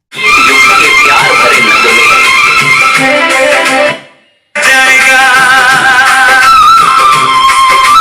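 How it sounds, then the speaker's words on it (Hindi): A Hindi film song blasts loudly from a Wembley RGB portable karaoke speaker, slightly distorted, cutting out briefly for half a second before the music resumes. "चलिए अब मैं यहाँ पे कोई सॉन्ग सुना करके दिखा देता हूँ कितनी तेज़ इसकी आवाज़ है।"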